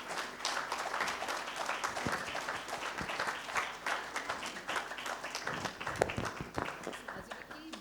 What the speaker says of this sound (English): So ladies and gentlemen, a big warm applause for Mr. Rajesh Hamal.